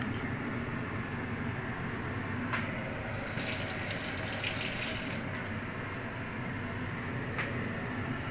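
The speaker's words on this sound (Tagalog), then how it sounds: "Tapos, konting tubig." Water poured into a pot of corn soup with tomato, a steady close splashing gush that runs continuously with a few brief clinks.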